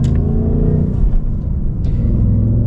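A Ford Mustang Shelby GT350 engine rumbles steadily at close range, a loud, deep, continuous burble with slight fluctuations and no speech over it.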